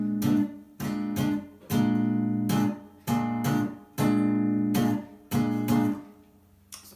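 Jazz guitar comping with short chord stabs in a syncopated pattern, each chord pushed ahead onto the and of four, clean and close with brief gaps between hits and no talking.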